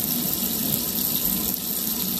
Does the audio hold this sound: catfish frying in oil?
no